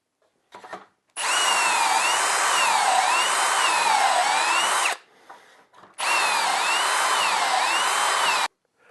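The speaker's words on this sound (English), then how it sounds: "now it's ready to drill those holes" A power drill whirs steadily into wood, drilling dowel holes for a wooden door, in two long bursts of about four and two and a half seconds, close up, with a short pause between.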